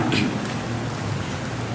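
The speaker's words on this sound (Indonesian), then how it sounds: "biarkan kawan di belakang tidak terkena hujan" Steady rain falls during an outdoor religious study gathering, a continuous broadband hiss that stays even and fairly close throughout with no clear voices on top.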